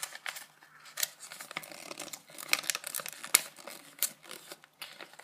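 Folds of a paper origami box are creased by hand: a close, quiet series of sharp crisp taps and crinkles at an uneven rhythm, with no voice.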